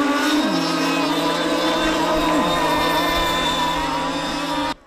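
FSRV-class racing model boats run at a 2021 Hungarian championship round on a boating lake. Their engines make a loud, continuous high-pitched drone with brief dips in pitch as they pass close by.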